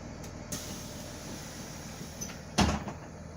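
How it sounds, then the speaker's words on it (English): A school bus stop arm and student door open and close during a pretrip inspection, a faint early clunk followed later by a sharper, louder mechanical thud and brief rattle, with no talking. "And my stop arm and my student door opened and closed properly."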